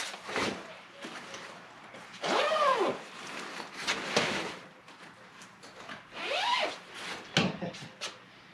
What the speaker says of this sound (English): this is a zipper pouch